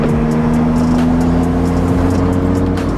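A BMW M235i with a BootMod3 Stage 2 tune idles and holds a loud, deep, steady engine drone close by, with a low rumble and faint periodic ticking over it.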